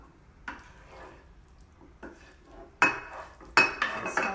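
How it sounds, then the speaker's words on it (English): A wooden spoon scrapes cooked black beans with spices, onion and garlic into a bowl, in scattered clinks and scrapes that grow sharper and louder toward the end. "We should be taking all our beans, now that they're cooked, and slowly scraping them into the bowl."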